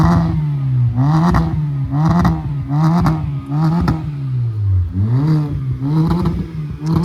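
Car with a new aftermarket exhaust setup revving hard in repeated blips, each burst rising and falling in a loud, throaty, rasping roar up close, with no one speaking.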